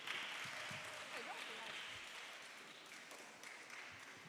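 An audience at a school science and maths quiz competition claps steadily for a team's score, a faint, continuous patter of many hands that fades slightly toward the end.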